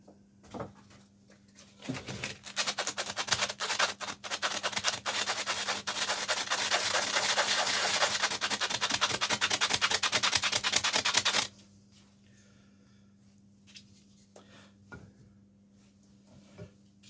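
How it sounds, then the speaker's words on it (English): Sandpaper rubbed against the base of a small turned wooden mushroom made from fence post timber, a loud, steady rasping friction lasting about nine seconds, then stopping abruptly and leaving a few faint knocks and handling sounds. "And sand the base."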